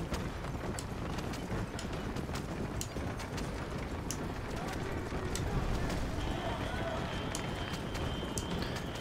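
A horse gallops in the video game Red Dead Redemption, its hooves drumming rapidly and steadily amid a dense wash of in-game ambience, with scattered clicks and a faint tone late on.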